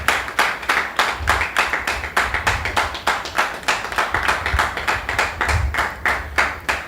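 Steady rhythmic clapping from a studio audience welcoming an invited guest on a Beninese television programme, crisp and even, close and continuous without any voices.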